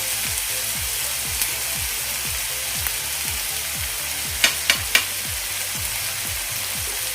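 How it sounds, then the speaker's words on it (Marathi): Softened tomato with red chili powder and turmeric frying in a pan for egg ghotala, a steady close sizzle with a rhythmic low bubbling pulse, a few sharp clicks of the spatula stirring partway through, no voices. "सर्व मसाले एकत्र करून मिक्स करून परतून घेऊया"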